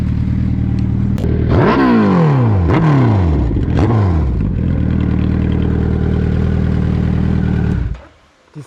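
A motorcycle engine idling loudly up close, then revved hard several times in quick succession, each rev rising and dropping before settling back to a steady idle and cutting off at the end.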